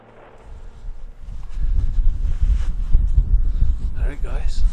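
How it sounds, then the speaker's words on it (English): Morning wind at an outdoor coyote hunting spot in western Newfoundland, a low rumbling buffet against the microphone that rises after the first second and stays gusty and loud. "there's a bit more wind here than I was hoping for this morning"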